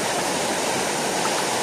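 A waterfall at Complexo Paraíso in Delfinópolis, Brazil, pours with a loud, close, unbroken roar of rushing water that fills the whole moment without pause or voices.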